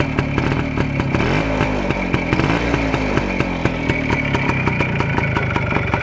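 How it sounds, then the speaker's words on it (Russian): A Soviet Voskhod motorcycle engine keeps idling with the carburetor choke lowered, a close, loud, steady two-stroke putter with rapid regular firing pulses and no talk. "Опускаю заслонку на карбюраторе, и он продолжает работать."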